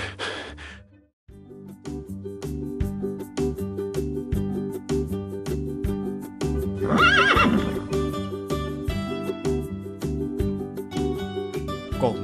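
A tired horse in an animated Vietnamese fairy-tale film neighs and breathes heavily while its hooves clip-clop steadily, all set against continuous background music.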